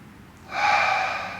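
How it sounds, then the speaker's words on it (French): A single deep Pilates breath drawn sharply through the nose to open the rib cage, a close, airy hissing inhale that swells and holds steady. "Et toujours cette respiration qui va ouvrir la cage thoracique pour permettre aux poumons de encore plus s'ouvrir"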